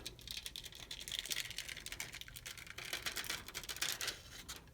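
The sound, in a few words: peeling transfer tape off rhinestone baseball cap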